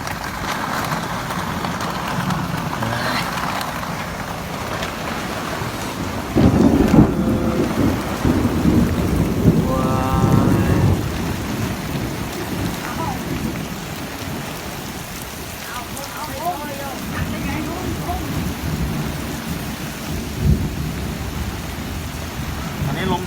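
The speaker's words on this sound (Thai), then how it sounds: "ลมแรงด้วยครับ ครับนี้ลูกเห็บ ตกด้วยนะครับนี่ลูกเห็บ" Heavy hail and rain pound the surroundings with gusting wind and low rumbles of thunder, and someone talks faintly in the background.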